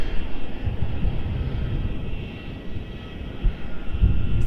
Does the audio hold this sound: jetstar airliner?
yes